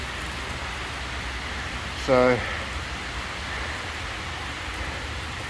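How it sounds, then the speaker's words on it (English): Heavy storm rain bucketing down, a broad steady roar of water filling the whole clip, with someone briefly speaking over it partway through. "And now, as you can see, it's just bucketing down."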